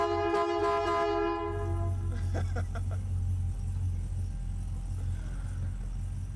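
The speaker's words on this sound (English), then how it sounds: "What I wanted to really show you was my air horns." Air horns fitted on a car blare a loud, train-like multi-tone blast at the start, followed by a deep steady rumble and some clattering.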